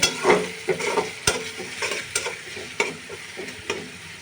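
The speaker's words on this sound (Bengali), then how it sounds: "এই যে পেঁয়াজ বাটা দিয়ে দিয়েছি এবার একটু ভেজে নিচ্ছি" Onion paste fries and is stirred in a pan for a Bengali home-cooked dish, giving a steady close sizzle broken by repeated scraping strokes of a spoon against the pan, with no voices.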